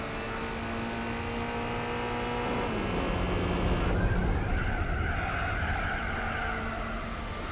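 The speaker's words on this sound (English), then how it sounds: "Listen to the whine in that turbo." Engine of an 80s turbocharged Mitsubishi Galant racing in Gran Turismo 4, a steady loud drone with tonal whine lines that drop and shift mid-way as revs change, tire noise beneath, no talking.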